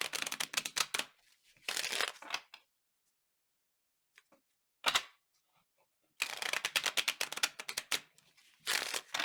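Tarot cards shuffled by hand in several bursts of quick riffling snaps, close and crisp, separated by silent pauses, with no talk.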